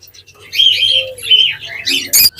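Pet birds in a Bangladeshi bird shop chirp and tweet close by in a quick cluster of bright calls, ending in a sharper squawk.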